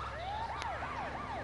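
An ambulance siren in the video game GTA wails in repeated rising-falling sweeps, moderately loud and continuous, with a brief sharp click partway through.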